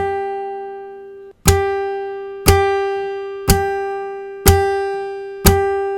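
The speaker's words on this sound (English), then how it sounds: "We're going to try doing a slap and strum on just the first string." A guitar's open first string is slapped and strummed five times in a steady rhythm, each sharp percussive attack followed by a ringing tone that decays before the next hit, close and loud with no talking.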